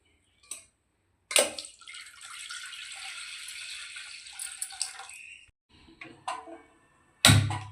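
Water pours steadily into a pot for mutton trotter soup for several seconds, splashing close by, framed by a few clinks and knocks of metal.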